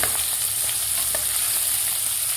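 Chopped onion sautés in a pan with a steady, close hiss of frying oil and occasional faint stirring taps, and no voices.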